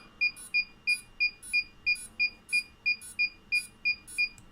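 A Pavo device gives off a rapid run of about a dozen short, sharp electronic beeps in a steady rhythm, clear and close, with no voices.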